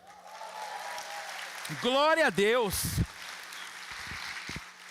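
A church congregation at a Sunday service at PIB Guarulhos applauds in a steady wash of clapping, with a voice calling out loudly over it partway through.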